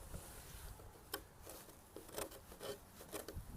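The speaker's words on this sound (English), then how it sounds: "I'm taking the screwdriver right now and working around here trying to get these cleaned" A screwdriver scrapes old paint off wooden Victorian porch skirting in short, quiet, irregular scratches and rasps, close up with no talking.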